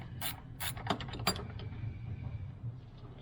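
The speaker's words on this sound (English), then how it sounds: "A gear ratchet, it's a gear wrench" A gear ratchet wrench clicking during a Chevy master cylinder job, a few quick sharp ratcheting bursts close by, then quiet shop background.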